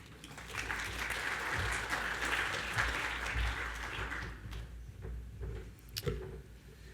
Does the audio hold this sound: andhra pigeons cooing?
no